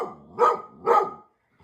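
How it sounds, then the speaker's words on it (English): A dog somewhere nearby lets out two loud, full barks about half a second apart, followed by a faint short sound. "Where's the barking coming from? There's a dog somewhere."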